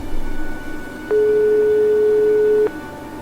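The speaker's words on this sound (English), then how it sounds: "Nico still wasn't answering her phone." Unanswered phone call tone in the video game Broken Sword 5: a single steady electronic beep lasting about a second and a half over faint background hum, with no talking.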